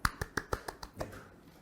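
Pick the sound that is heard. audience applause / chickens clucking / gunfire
audience applause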